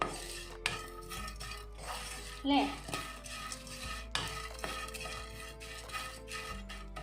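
Dried shrimp roasting in a pan, stirred with a utensil that scrapes and clinks against the metal in repeated strokes close up, with a faint sizzle underneath and a brief spoken word.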